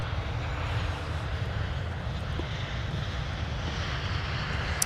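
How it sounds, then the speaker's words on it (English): An Air France airliner departs Minneapolis–St. Paul airport from runway 12 right, giving a steady, broad engine roar at a distance that holds evenly throughout with no talk over it. "just when we didn't think we were going to get to see Air France's departure back to Paris"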